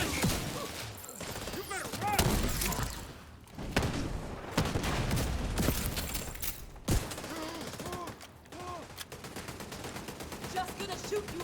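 Video game gunfire rattles in repeated rapid bursts and single shots against a busy mix of game effects and mechanical clatter, fairly loud and continuous throughout, with a voice talking over parts of it.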